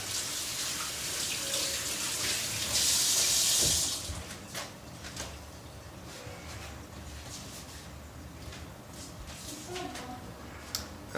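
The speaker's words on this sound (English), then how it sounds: "So I'll wash my hands real quick" Water running steadily from a kitchen tap while hands are washed, a continuous close hiss with a brief louder gush partway through and small splashes and clinks.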